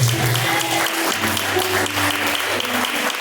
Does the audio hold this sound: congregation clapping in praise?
yes